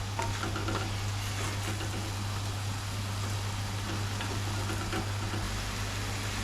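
Onions frying gently in a pan on a small hob ring for onion gravy, a steady close hiss and sizzle with a constant low hum underneath, no talking.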